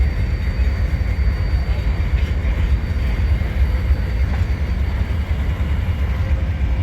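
Diesel locomotive 1689 idling at Illinois Railway Museum Diesel Days, a loud, steady low rumble with constant engine drone and no speech.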